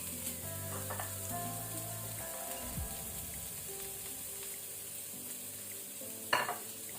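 Ginger, green chilli, onion and curry leaves sizzle steadily in oil in a pan over medium flame, a continuous close frying crackle with one brief utensil clatter near the end.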